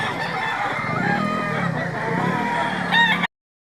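A fighting rooster crows loudly and close by at a gamecock market in Lipa, Batangas, one long drawn-out call over a busy background of other fowl and crowd murmur.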